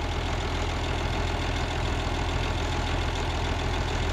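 An overhauled engine idles steadily and close by, a dense continuous rumble with a fine low pulsing and no pauses over a few seconds.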